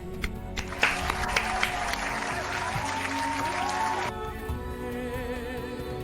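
A short burst of quiet applause rises for a few seconds during a livestreamed prize-giveaway announcement, then stops abruptly and leaves a low background hum.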